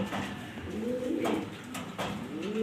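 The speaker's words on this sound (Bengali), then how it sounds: "মাদি কবুতরটা দেখতে পারতেছেন" A black Maltese female pigeon coos in low, repeated throaty phrases, close by, with faint clicks and rustles around it and no talk.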